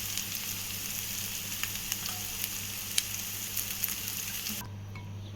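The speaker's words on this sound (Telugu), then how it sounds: "మసాలా ఇలా వేగింది కదా" Masala spices fry for a mutton curry, a steady crackling sizzle with small pops throughout, then the sizzle drops away abruptly near the end, leaving a low hum; no one speaks.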